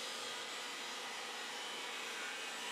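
A CNC machine with an automatic tool changer running in the Godin guitar factory in Canada, cutting guitar parts: a steady, even broadband whir and hiss at moderate distance, unbroken throughout with no talk.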